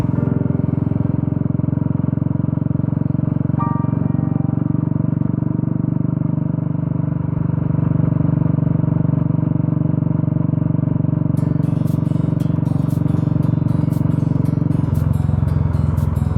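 A 2016 Royal Enfield Classic motorcycle rides along with a steady, loud low engine drone and rumble, the tone shifting slightly near the end, with a faint rattle over the top.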